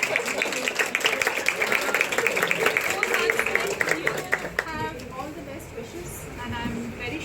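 Clapping from students in a college classroom at St. Stephen's College, Delhi, a quick steady patter of many hands that fades after a few seconds as voices and murmurs take over.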